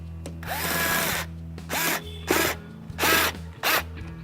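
A power drill on a low setting tightens a screw while mounting an LED third brake light on a 2009-2014 Ford F-150, running in four close, loud bursts separated by short pauses.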